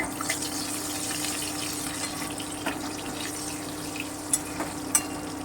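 Slit green chilies and black cumin frying in hot oil in a pan, a soft continuous sizzle with a faint steady hum and a few small clinks near the end.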